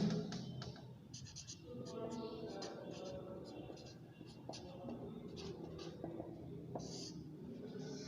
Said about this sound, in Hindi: एक्सहेलेशन के भी मैं लिख देता हूँ